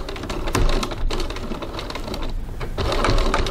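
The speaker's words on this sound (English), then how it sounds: "So now I'm just going to top stitch down this side from that top edge there." A sewing machine topstitches down the side of a fabric wallet: a close, continuous rapid mechanical chatter with brief pauses and slight speed changes.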